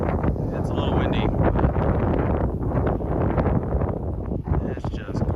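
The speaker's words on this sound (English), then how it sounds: "It's a little windy" Wind buffets the microphone at a roadside viewpoint in Alaska, a loud low rumbling roar in uneven gusts with rustling, while a voice talks over it.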